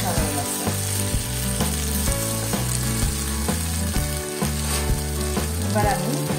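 Spice masala fries and sizzles in oil for an egg flower dish, a dense continuous crackle under a steady, loud mechanical hum.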